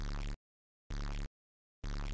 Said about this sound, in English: Now when you pop a balloon, you can make it sound like this.